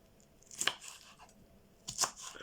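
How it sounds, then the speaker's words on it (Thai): Two sharp crunchy cuts about a second and a half apart, a knife chopping chili peppers into small pieces on a board, fairly close with quiet room noise between. "เด็ดขั้วออกแล้วเราก็มาหั่นเป็นชิ้นเล็กๆค่ะ"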